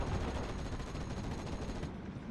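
Dense rapid gunfire and explosions in the World War II strategy game Steel Division: Normandy 44, with anti-tank guns firing at an M3 half-track: a loud, continuous barrage of overlapping shots filling the whole moment with no clear gaps.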